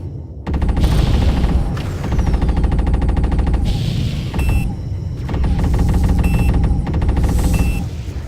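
Spacefighter guns in the game Freespace Blue: War in Heaven fire in loud, continuous rapid bursts, a dense mechanical rattle over a deep engine rumble, broken by brief gaps and short electronic beeps.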